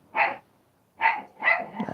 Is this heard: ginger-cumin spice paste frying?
no